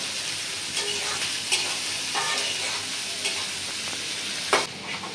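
Onion and green chili sizzle in a hot pan with oil, a loud, continuous crackling fry broken by the scrape and clatter of a spatula stirring.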